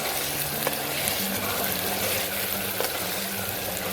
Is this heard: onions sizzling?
yes